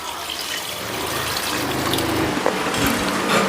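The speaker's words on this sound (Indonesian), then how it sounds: "Langsung tak tambahkan air teman-teman." Tap water pours steadily into a soup pot for homemade bakso broth in a home kitchen, a continuous splashing trickle that builds slightly over a few seconds, close and alone without talk.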